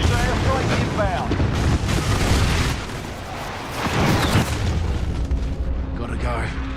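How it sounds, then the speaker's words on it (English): Precision airstrike in Call of Duty: Modern Warfare multiplayer, deep booming explosions rolling one after another under loud battle noise, with voices talking over the blasts. "Be advised, friendly precision airstrike inbound."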